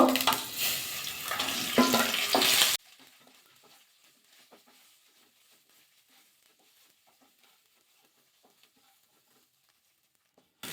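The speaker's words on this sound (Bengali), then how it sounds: "সোয়াবিনগুলো হালকা ভাজা করে নেব" Soybean chunks with turmeric and salt fry in hot mustard oil in a karahi, a loud close sizzle with stirring that stops abruptly after under three seconds, leaving near silence with faint clicks.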